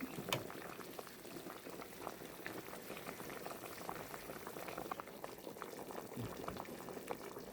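Pork meatball soup boiling in a pot, a continuous quiet bubbling with dense small pops throughout, close and steady.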